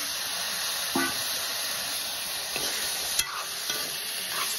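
Local potatoes frying in a kadai for a magur catfish curry, a steady soft sizzle with a few scraping stir clinks, close and moderately quiet, no talking.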